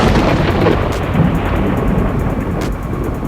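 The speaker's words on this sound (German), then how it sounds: "genau in dem Moment donnert es laut vom Himmel oben ab" Loud rolling thunder over a lake during a gathering storm, a deep sustained rumble that stays strong throughout and eases slightly toward the end.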